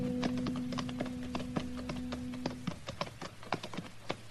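Horses' hooves clip-clopping at a steady walk along a deserted town main street, a radio drama sound effect, with rhythmic close hoof taps over a low steady hum and no voices.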